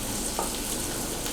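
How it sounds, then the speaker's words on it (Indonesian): Shallots and garlic sauté in a pan, giving a steady close sizzle with a soft stir or scrape partway through, and no talking. "Kita masukin langsung bawang merah sama bawang putihnya. Oke, kita tumis ini sampai mateng ya."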